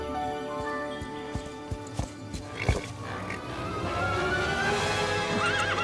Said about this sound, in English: Oh, his horse!